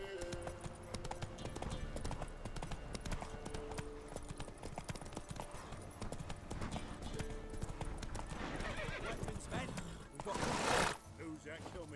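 Horse in The Witcher 3 video game galloping with rapid, steady hoofbeats throughout, followed near the end by a brief loud neigh, with background game music underneath.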